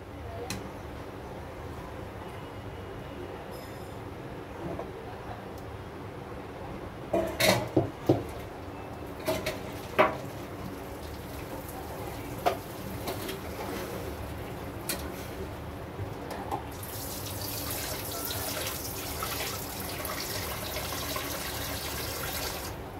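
A few metallic clanks of a pot, then a steady rush of water pouring out of boiled noodles and splashing into a sink for several seconds.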